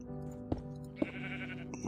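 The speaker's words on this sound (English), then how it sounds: "No, it's a sheep." Sheep bleating in a video game, a few short bleats that come and go over a steady background drone, with no talk.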